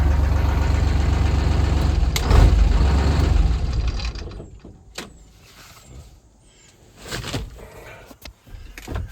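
A Diamond Reo truck engine runs with a steady low rumble, then is shut off and winds down, leaving quieter mechanical clicks, air hiss and a few sharp knocks.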